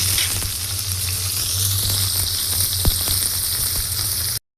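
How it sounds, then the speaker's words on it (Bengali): Prawns crackle and sizzle steadily in hot oil for a Bengali prawn bharta, a dense close hiss that holds level throughout, with a faint low hum beneath and no talk. "এখন তেলটা চটপট করছে।"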